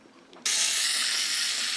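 A Fujica STX-1 35mm film camera's delayed-action self-timer starts abruptly after a brief quiet moment and keeps up a steady, close mechanical whirring buzz, like a small spring-driven gear escapement, for the rest of the clip.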